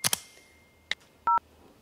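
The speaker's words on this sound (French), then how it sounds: "J'appelle Verity pour lui en parler." Touch-tone dialing beeps from a phone number being entered in the Talking Angela mobile game, a few short clicks then a clean two-tone beep, heard alone with no talk.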